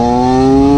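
A TM SMR 125 motorcycle fitted with a full PR exhaust revs steadily and loudly up close, its harmonic engine drone holding a constant high idle for under a second with no other sounds.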